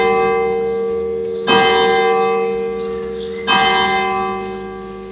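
A village church bell in Villiers-sur-Loir strikes twice, about two seconds apart, each loud, rich stroke ringing out and slowly fading into a long sustained hum.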